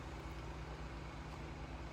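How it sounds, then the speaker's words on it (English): A neighbor's car engine warming up on an early morning, heard as a steady low idling rumble, faint and unchanging, with no voices. "It's the sound of my neighbor's car, warming it up before work"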